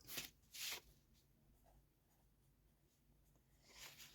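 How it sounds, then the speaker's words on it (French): A pen scratches out handwritten measurements on paper in quick faint strokes, a couple of brisk scribbles at the start and another at the end, with quiet pauses between. "je me note mes mesures"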